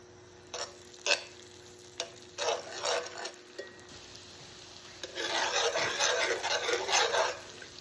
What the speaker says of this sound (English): we're going to go ahead and add our garlic. Get all of that in there, and we're going to just brown it up